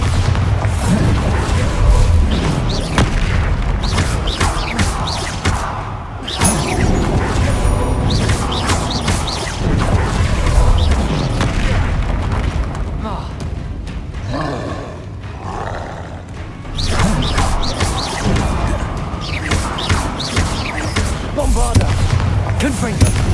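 Repeated Bombarda and Confringo spell explosions in the video game Hogwarts Legacy, loud roaring booms and crashes in a dense, continuous barrage over game sounds.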